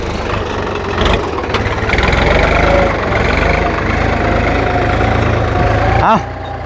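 New Holland TT3.50 tractor ploughing a field, its diesel engine chugging loudly and continuously with a low knocking rumble and slight load changes, plus a brief rattling thump near the end.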